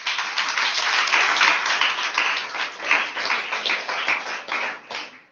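A church congregation applauds during a Sunday service, a steady wash of many hands clapping at close range with no talking, holding for several seconds before tapering off.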